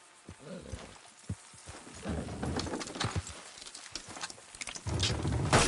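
Horses' hooves clop and thud in an uneven rhythm while a team strains to pull something down in a video game, the hoofbeats fairly close but fairly quiet, with scattered voices and rising background noise.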